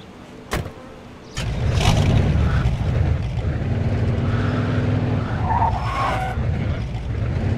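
Car engine revs and tires skid loudly in Mafia II Definitive Edition, a steady roar beginning after a short quiet start, with squealing accents near the end and no speech.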